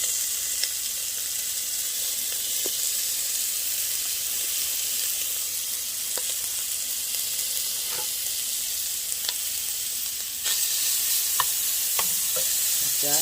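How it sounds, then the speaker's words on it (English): Meat sizzles and browns in a pan for Zuppa Toscana, giving a loud, even hiss that runs throughout, broken by occasional utensil clicks. A voice speaks briefly. "we're gonna take them over here and put them in our pan, and we're gonna brown them"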